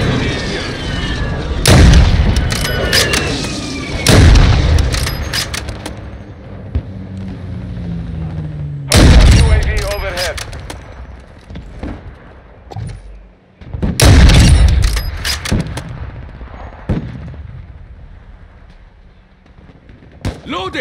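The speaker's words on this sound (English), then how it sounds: "Hostile precision airstrike." Precision airstrike blasts in Call of Duty: Modern Warfare 2, four heavy booming explosions spaced several seconds apart, mixed with gunfire crackle and radio voices between the hits.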